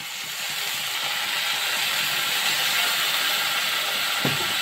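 Fish curry with potato and eggplant sautés in a pan, giving a steady, loud hiss and sizzle close by, with a single soft knock near the end.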